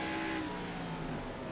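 A stock car in the ARCA Series at Myrtle Beach Speedway sweeps past in an iRacing replay, its engine note rising and fading at moderate distance, fairly quiet and alone.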